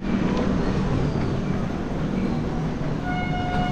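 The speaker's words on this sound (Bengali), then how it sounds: "বাবা ট্রেন ঢুকে" A train rolls into a station in West Bengal with a low, steady rumble of wheels and carriages, and faint tonal hums ring out near the end.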